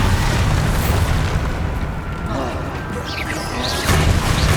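Bombarda spell blast in Hogwarts Legacy, a loud booming explosion with rumbling debris amid dense battle noise and crackling magic effects, ending in a second burst near the close.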